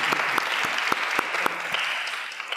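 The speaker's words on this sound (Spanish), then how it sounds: "agradecemos enormemente con un gran aplauso su intervención" Audience applause after a speech, steady close clapping with a few sharp individual claps standing out in a loose rhythm, holding at an even level throughout.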